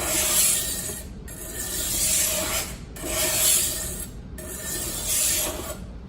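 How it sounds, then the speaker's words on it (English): A knife blade drawn along a honing steel in four long, even rasping strokes with brief pauses between, close and clear, with no voices. "That's the reason why you have a honing steel to recenter that edge."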